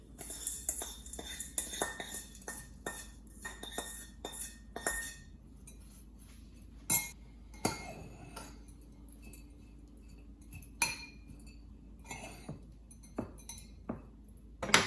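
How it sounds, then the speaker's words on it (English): Metal spoon scraping and clinking against a pot while mixing pressure-cooked lemon rice with tadka, a steady run of close, sharp clatters and taps with no talk. "Let's mix the lemon rice."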